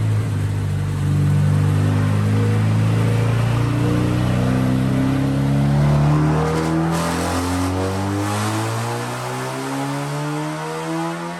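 A Ford Focus RS on an SP63 dyno revs loudly and continuously, engine pitch climbing steadily through the gears with shifts heard as brief dips, close and powerful.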